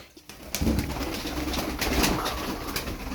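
Pigeons coo and rustle nearby in a busy loft of about eleven birds, soft throaty calls layered over scuffling and fluttering.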